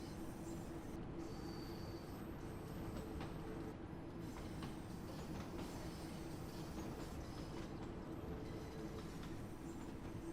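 A London Underground 1972 stock train on the Bakerloo Line in Train Sim World 2 rumbles steadily along with a continuous low roar, faint rhythmic wheel clatter and occasional squeals, with no talk.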